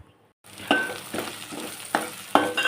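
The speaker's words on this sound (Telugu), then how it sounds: "నేను గోంగూర టమాటా మిల్ మేకర్ వేసి కూర వండుతున్నాను ఫ్రెండ్స్" Gongura, tomato and meal maker curry cooking in a pan, a sizzling hiss starting after a brief silence, broken by four or five distinct scraping stirs of a spoon, no talking.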